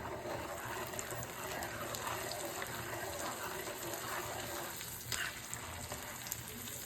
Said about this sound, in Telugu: ఇది ఇప్పుడు వేగనివ్వాలి ఎర్రగా